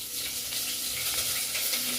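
Vegetables sizzle and crackle steadily in a hot pan for foxtail millet upma, a dense, even frying hiss close by with faint stirring, no voices.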